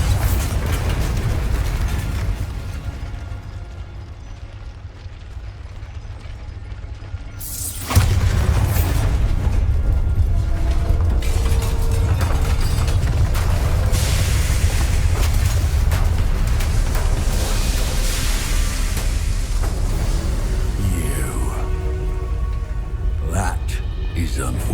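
A Bombarda spell in Hogwarts Legacy sets off a loud, booming explosion about eight seconds in, after quieter ambience, and rumbling debris and crackling follow for a long stretch with faint game sounds underneath.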